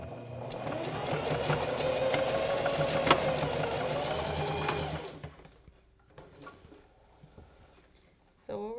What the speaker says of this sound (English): we're gonna sew it down.